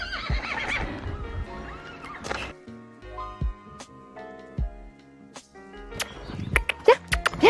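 A horse being walked about 300 meters from its pasture, out of sight of its companions, gives a loud, close, drawn-out neigh. Softer snorts and hoof clops on the ground follow.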